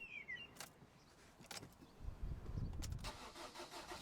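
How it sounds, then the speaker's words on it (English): A Vauxhall Astra 1.3 CDTI diesel engine cranks and catches, then settles into a steady low rumble after a few brief clicks beforehand. "Start the engine"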